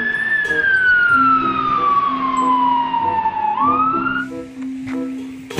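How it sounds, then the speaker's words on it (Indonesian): A toy fire truck siren wails loud and close, its tone sliding slowly downward over several seconds before jumping back up, with a steady repeated lower tone pulsing beneath it. "Mobil pemadam kebakaran."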